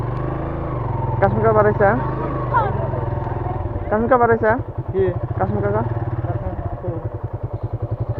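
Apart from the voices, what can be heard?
motorcycle riding slowly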